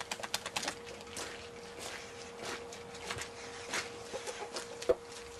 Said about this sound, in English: Oh God, chickens.